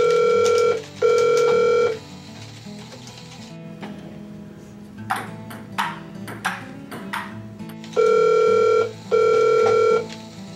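An electronic telephone rings in an office in two bursts of repeated double trills, loud and close, with a quiet gap between them filled by faint clicks and background hum.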